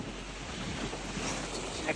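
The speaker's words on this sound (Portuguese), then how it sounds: "Conseguimos uma rajada boa de vento agora." A gust of wind at sea on a sailboat, a steady broadband roar of wind buffeting the microphone over water rush, with a faint voice in the background.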